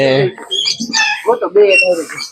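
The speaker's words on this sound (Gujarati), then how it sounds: "આ પહાડી પોપટ કહેવાય આને, બહુ મોટા હે." A large white hill parrot at a zoo park in Rajkot gives a run of loud, harsh squawks close by, several raspy calls in quick succession.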